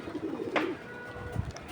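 Pigeons, male and female, freshly bathed and let out together, coo close by: a couple of low throaty calls against a soft outdoor background.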